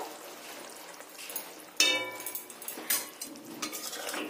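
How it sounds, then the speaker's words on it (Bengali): A metal spoon stirs and scrapes through a yogurt fish curry (doi pona) in a pan after garam masala is added. Quiet at first, then sharp clinks and scraping strokes come in a loose, repeated rhythm, close and alone. "দিয়ে ভালোভাবে নেড়ে নামিয়ে নেব"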